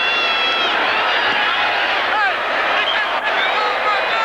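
A large football stadium crowd roars and cheers after a game-tying conversion kick at a 1983 Raiders at Cowboys NFL game, a loud, sustained wash of voices with a brief dip near the end.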